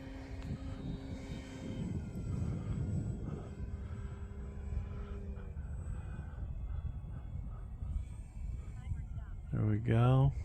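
An Arrows Husky Ultimate RC airplane circles in to land on a breezy day, its engine droning steadily at low throttle under ongoing talk, with a brief louder whine rising near the end.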